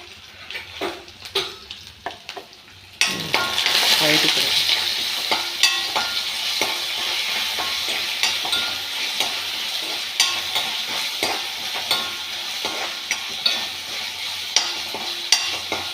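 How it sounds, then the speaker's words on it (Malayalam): Ginger-garlic paste and crushed garlic hit a hot pan for a breadfruit kootu curry: near-silence, then a sudden loud, steady sizzle carrying on with frequent clicking stirs and scrapes. "ശേഷം ഇഞ്ചി, വെളുത്തുള്ളി പേസ്റ്റ്, വെളുത്തുള്ളി ചതച്ചത് ചേർക്കുക."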